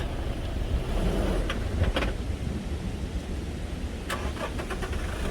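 A 4x4 vehicle on a steep mountain road in Basho valley cranks and its engine stalls, a rough mechanical churning with a few sharp clanks, heard close and alone.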